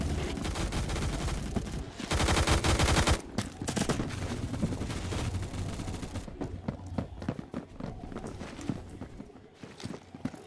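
Video game gunfire in Phantom Forces: dense, rapid bursts of shots and clattering impacts, loud at first, then thinning into scattered cracks and thuds over a busy game soundscape.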